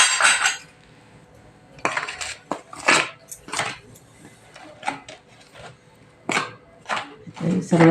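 Palak puri dough being mixed with a spoon after hot oil is poured in, heard as repeated close scraping and clinking of a spoon against a bowl in uneven bursts with quiet gaps.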